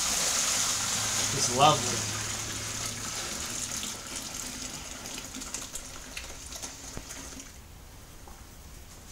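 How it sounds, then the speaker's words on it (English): First runnings of IPA wort pour into a boiler kettle while home brewing, a steady splashing trickle with faint clinks, then tapering off, as someone briefly speaks. "When that fills up, I pour that into my boiler kettle. So, first runnings go into the boiler pot."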